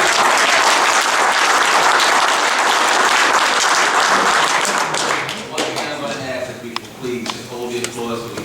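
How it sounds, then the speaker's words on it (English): Audience applause at a state assembly public safety hearing, a dense sustained burst of clapping that fades after about five seconds into scattered claps under talking. "Please just hold your applause so we can just keep the meeting long, please."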